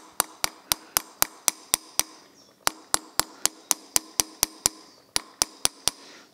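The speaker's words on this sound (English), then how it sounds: "Again, slight ticks with a hammer." Light hammer taps knock a pin out of a Weber DCOE carburetor: about twenty sharp, close metallic ticks in a steady rhythm, with short pauses between runs.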